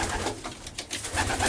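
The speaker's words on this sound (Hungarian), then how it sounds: "Ebben az útban vannak a maraton galambjaink." Marathon racing pigeons cooing inside their loft, a dense continuous murmur of overlapping coos from many birds close by.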